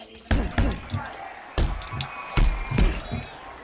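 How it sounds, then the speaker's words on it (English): Exaggerated comedic punch impacts from the Supremacy MMA fighting video game land in a quick irregular series of sharp, thudding smacks, with voices talking faintly between hits. "those comedy punch noises are just like too much"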